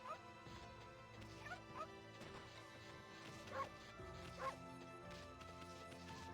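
Dog barks and whimpers from the video game Okami, a few short yips and whines over a steady backdrop of game music, with bursts spaced irregularly through the clip.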